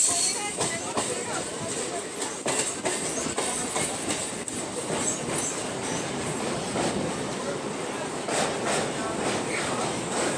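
A Dankuni to Sealdah local train rumbles steadily through suburban Kolkata near Baranagar, with a continuous wheel roar and repeated rhythmic clacks over rail joints, heard from on board.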